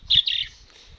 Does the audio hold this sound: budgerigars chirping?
yes